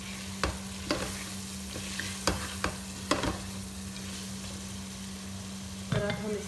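Potatoes fry in a pan for aloo gobi, a soft sizzle running underneath as a spoon scrapes and stirs in several sharp, irregular clacks, with no one talking.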